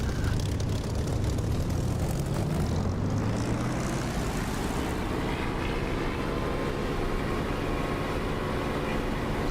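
Propeller aircraft engine roaring at full throttle during a takeoff run in the DCS flight simulator, a loud steady drone rising in pitch as power builds, continuous throughout with no talk.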